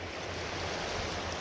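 River water flows over bedrock at a shallow ford, making a steady, broadband rushing wash with a low rumble, close and constant, with no talking.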